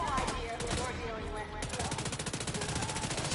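Rapid automatic gunfire in a video game, dense bursts of repeated shots filling the clip up close, briefly easing midway before resuming as a steady rattling stream, with faint voices underneath.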